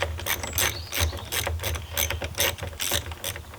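Ratchet wrench with an 8 mm socket loosening a hose clamp while an alternator is being changed, giving a rapid series of close, crisp clicking bursts in short repeated strokes, with no talking.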